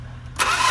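A Hyundai Grace with a D4BX diesel engine, smoking at the dipstick and breather hose, starts on the first crank: a short click, then the engine abruptly catches into a loud, steady running roar, close by with no talk.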